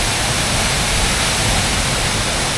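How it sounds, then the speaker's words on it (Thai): A waterfall at Khun Korn in Thailand crashes down hard after rain, a loud, steady, unbroken roar of heavy water close by with no voices. "คนลองฟังเสียงน้ำดูนะครับ น้ำตกลงมาแรงมากเลยนะครับ"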